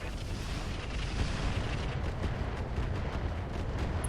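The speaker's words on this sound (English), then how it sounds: "what do we want to hit with artillery?" Mech artillery fire in the BattleTech RogueTech game, a continuous loud rumbling barrage of booms and blasts sustained throughout without pauses.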